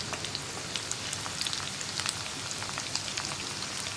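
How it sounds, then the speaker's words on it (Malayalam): Paneer pieces fry in a pan of oil for chilli paneer, giving a soft, steady crackle with scattered sharper pops, fairly quiet and close, with no voices. "ഇപ്പോൾ നമ്മുടെ പനീറെല്ലാം ഫ്രൈ ആയി വന്നിട്ടുണ്ട്"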